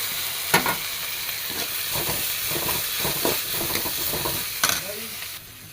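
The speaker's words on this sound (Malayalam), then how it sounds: "ഇതാ പച്ചമുളക് ഇതൊക്കെ കൂടി ചതച്ചിട്ട് കൊടുത്തു" Crushed green chillies and onions frying in a pan for a fenugreek-leaf thoran, a constant close sizzle broken by repeated scraping and clacking strokes as the mixture is stirred.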